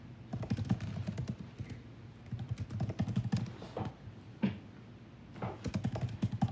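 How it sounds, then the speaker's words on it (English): Fingers type on a computer keyboard in quick irregular bursts of clicky keystrokes, pausing briefly between runs, close and fairly quiet with no talk over it. "I was typing that, sorry."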